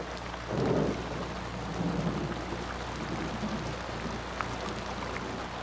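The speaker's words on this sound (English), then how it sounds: "Huge raindrops pound on the sand and awaken the toads in their sheltered hideouts." Heavy rain pours steadily onto sand with low rumbles of thunder rolling underneath, a dense continuous wash of sound with no voices.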